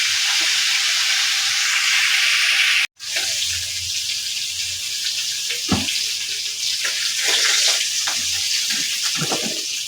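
Fish fries in hot oil, giving a loud, steady sizzling hiss that runs nearly the whole time, broken only by a brief dropout near the start.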